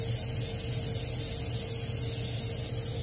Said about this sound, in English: Kind of spraying past the bait.